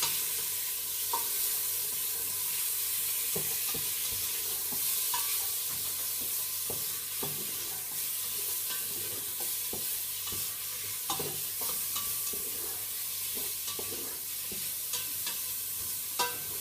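Chicken pieces sizzle in a hot frying pan for a curry while a utensil stirs and scrapes them around, the steady frying hiss broken by frequent close clacks and scrapes of the spoon against the pan.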